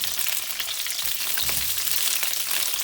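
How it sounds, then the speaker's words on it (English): Bok choy stems frying in a hot pan give a loud, dense, continuous sizzle close up, with a brief stir-like thump midway and no talking. "we're going to just add the whites of the bok choy and cook them a little bit until they are really tender"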